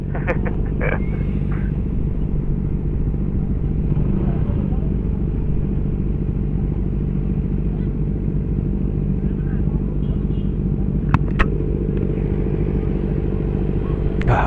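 Loud, continuous rumble of a Honda PCX160 scooter engine while riding, steady and close throughout, with brief clattering sounds and voices in the background.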